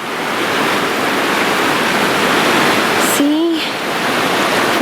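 River rapids near Paintbrush Canyon in Grand Teton rush in a loud, continuous broadband roar, with a brief spoken word and a short tonal sound partway through.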